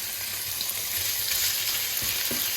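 Liver and onions in the Venetian style fry in a pan over lowered heat, with a loud, steady sizzle throughout and a couple of faint stirring knocks.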